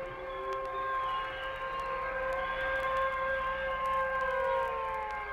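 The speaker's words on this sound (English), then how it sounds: "Then the sirens would rise and then fall slowly." A distant air-raid siren wails, its tone swelling and slowly sinking, with a steady low rumble beneath it.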